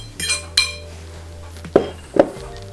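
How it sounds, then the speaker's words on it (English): A fork clinks sharply against a bowl a few times while dry ingredients for baked chocolate donuts get a quick whisk, each tap separate and close. "Just a short whisk with a fork."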